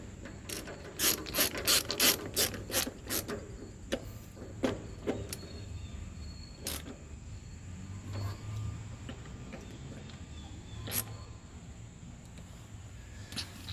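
A flathead screwdriver snugs the carburetor lid screws on a Briggs and Stratton engine of a Troy-Bilt XP 7500-watt generator, with rapid close clicking and ratcheting bursts early, then sparse single clicks over a quiet background.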